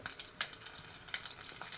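Chilies sizzle and crackle in a tablespoon of hot oil in a wok, a steady close frying hiss with scattered pops.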